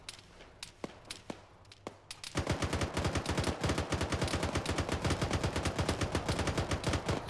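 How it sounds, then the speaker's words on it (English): Rapid, continuous video game gunfire in Arma 3 crackles in a dense burst after a few scattered single shots, sounding distant rather than right up close. "I can just hear you guys' gunshots way off in the distance."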